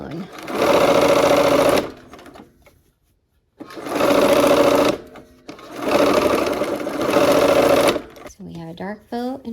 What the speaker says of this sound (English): let's go ahead and get these bows sewn